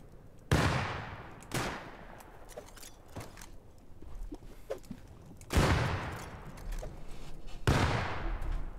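Gunfire in the survival game Rust: four loud, sharp shots spaced a few seconds apart, each with a long echoing tail, with faint footsteps and small clicks between them.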